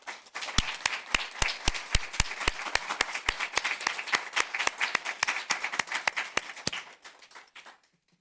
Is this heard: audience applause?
yes